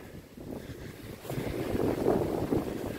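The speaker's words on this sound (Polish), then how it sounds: "Dużo połamanych gałęzi, pewnie od wiatru, który teraz słyszycie." Gusty wind buffets the microphone near an overgrown war cemetery strewn with broken branches, rumbling low and swelling louder toward the end, with no voices.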